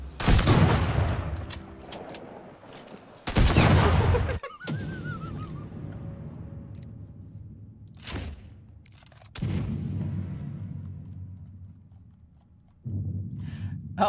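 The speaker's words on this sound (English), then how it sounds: "Use the explosive bullets." Explosive bullets are fired in a video game. A few heavy, booming shots come in separate bursts, each followed by a short decaying rumble, with quieter stretches between them.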